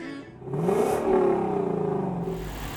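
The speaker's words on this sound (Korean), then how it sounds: "5000cc의 대형 가솔린 엔진을 장착한 스포츠카도 한국 시장 공략에 나섰습니다" A sports car with a 5000cc gasoline engine revs up, rising into a loud sustained roar, heard close and alone with no talk.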